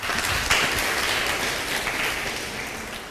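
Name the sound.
applause for schoolchildren on a TV quiz show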